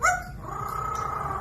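A parrot mimics a dog, giving a short bark followed by a low, steady growl-like rumble, close and quiet in an indoor room.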